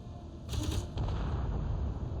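Turrets firing in the video game Space Engineers, three mounted side by side, a short burst of rapid gunfire followed by a sustained rumbling din, fairly loud with no voice over it.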